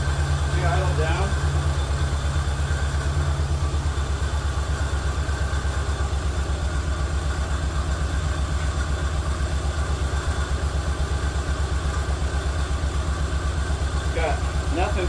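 A 2002 Subaru Impreza wagon, lifted and knocking, idles with a mild vacuum leak, giving a steady low engine hum with an even pulsing rhythm throughout, recorded up close with a brief voice near the start and end.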